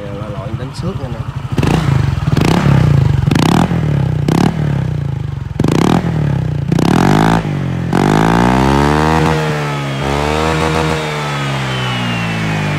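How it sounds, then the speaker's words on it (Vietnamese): A Honda Vario scooter fitted with a 4Road exhaust revs repeatedly in close, loud bursts, then settles into a steady idle with rising and falling throttle, with talk over parts of it. "Mình ráp vô nổ máy mình chạy thử cho anh em xem nha."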